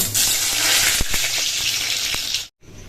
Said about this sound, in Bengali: প্রথমে পটলগুলো একটু ভেজে নেব